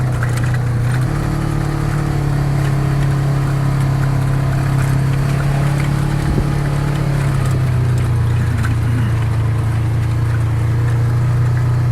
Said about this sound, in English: I got a lot of background motor noise